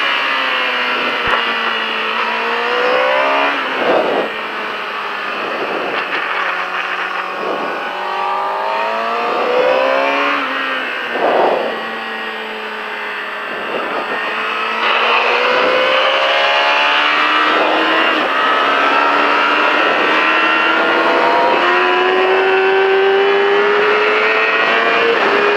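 A motorcycle on a race track accelerates hard at full throttle, its loud engine note climbing through repeated gear changes in a steady, continuous roar with no voices.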